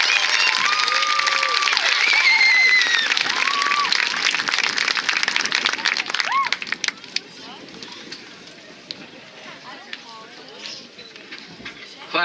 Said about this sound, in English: please give a nice round of applause to all of our award recipients